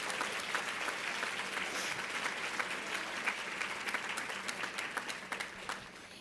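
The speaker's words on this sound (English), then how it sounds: "So I'd like a round of applause for all the men that are here today." A room of people at a women's advertising club event gives a round of applause for the men present, dense steady clapping that thins into scattered individual claps toward the end, with no voices over it.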